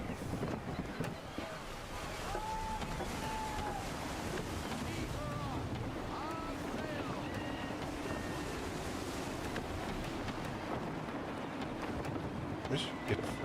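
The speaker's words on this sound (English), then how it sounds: "Gusty winds can be difficult to manage." Steady roaring wind and surging waves at sea aboard a sailing ship in Assassin's Creed III, a continuous loud wash with creaking and faint tonal calls through it, while voices speak over it.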